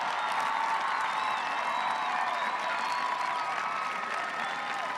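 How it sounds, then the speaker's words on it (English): A graduation audience gives enlisting students a round of applause, a dense, steady wash of clapping from a large crowd that stays loud and even throughout. "Let's give them an astounding round of applause."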